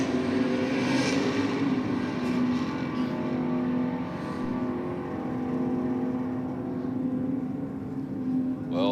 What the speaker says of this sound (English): We've got the Falcon down in the rocket lane,